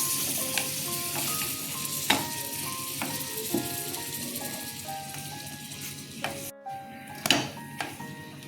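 Butter naan sizzles softly in butter on a pan, a low steady frying hiss with occasional clicks and faint tonal beeps in the background.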